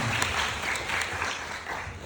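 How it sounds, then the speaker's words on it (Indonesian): University open house audience applauding the chemistry department, a dense round of clapping with a few sharper claps standing out, moderately loud, with no talk over it. "boleh tepuk tangan teman-teman untuk kimia UI luar biasa"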